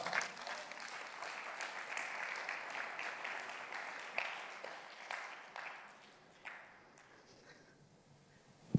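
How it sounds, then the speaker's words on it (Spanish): Congregation at a church service breaking into applause for the Lord, a steady wash of many hands clapping that holds for several seconds and then thins out toward the end. "¿Por qué no le da un fuerte aplauso al Señor?"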